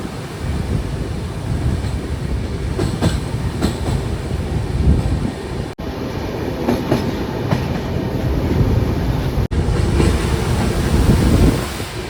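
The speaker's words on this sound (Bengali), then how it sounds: "ট্রেন এখন পার করছে ফারাক্কার ব্যারেজ" The Kanchankanya Express rolls over the Farakka Barrage at night, heard from aboard as a loud continuous rumble with clickety-clack wheel beats and two brief dropouts.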